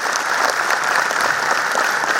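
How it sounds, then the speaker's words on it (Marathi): Sustained audience applause fills a hall at a memorial concert's vote-of-thanks ceremony, a dense, even clatter of many hands clapping without a break, fairly loud and with no voices on top. "आपण एकदा करतालध्वनींनी टाळ्या वाजवून"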